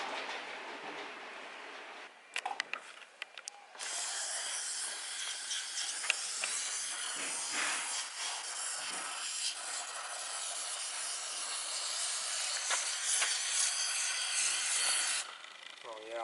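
Carb cleaner sprays onto a dirty steering pump on a Toyota Altezza, giving a long, continuous, fairly soft hiss of about eleven seconds, preceded by a few brief clicks and handling noises.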